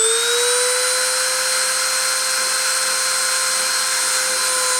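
A machine spindle spins up to 30,000 RPM, a loud continuous high whine with tones sliding slightly upward at the start, then holding steady.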